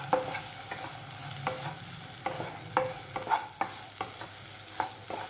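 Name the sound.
sautéing chopped tomato in pan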